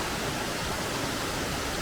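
Steady roar of Furubergsfossen in Norway, a waterfall with a 20-metre free fall fed by meltwater from the Folgefonna glacier, heard as dense, unbroken rushing water filling the air without speech.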